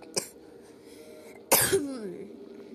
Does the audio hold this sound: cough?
yes